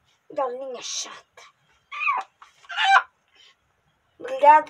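A brooding hen held by the wing in a coop lets out several loud, close squawking clucks in separate bursts, with pauses of silence between them.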